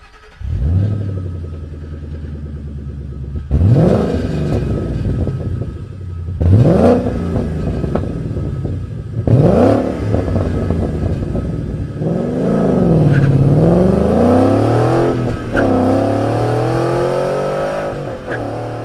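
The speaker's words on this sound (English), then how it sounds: "The note's a lot deeper. It's a lot throatier, but it's not a lot louder than stock." A Ford Mustang 5.0 with a Borla touring exhaust revs repeatedly, a deep, throaty engine note climbing and falling in several loud pulls, close by with no talking.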